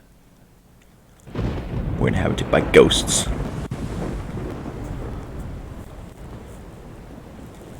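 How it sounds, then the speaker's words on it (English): A stormy scene in a Nintendo Switch video game: a burst of thunder breaks out after a second of near quiet, then gusty wind and rumbling roll on steadily while someone talks over it. "Okay, we got a storm."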